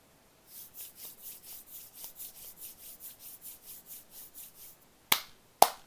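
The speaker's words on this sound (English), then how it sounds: "a simple sound here of my hands rubbing together" Hands rubbing together, a quiet, rhythmic series of about a dozen soft swishing strokes, close and alone, followed by two sharp claps at the end.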